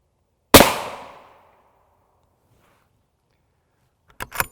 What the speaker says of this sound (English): I'm going to just do 2 shots of the M2AP at standard pressure